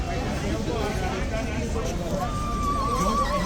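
A horse whinnies in a drawn-out call near the end, over steady background noise and some murmuring.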